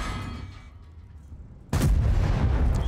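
A single loud tank cannon shot in a tank game, an AMX M4 54, erupting suddenly after quiet engine rumble and ringing out with a heavy sustained blast.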